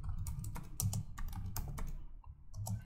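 Close, brisk clatter of keys on a computer keyboard, an irregular run of taps with a brief pause before a few final strokes.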